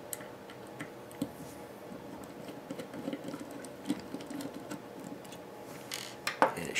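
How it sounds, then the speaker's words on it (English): A screwdriver works mounting screws out of a WD Elements hard drive enclosure, giving quiet, repeated ticking and scraping clicks close by, with a few sharper metallic clicks near the end. "I'm going to take a screwdriver and very carefully remove these mounting screws"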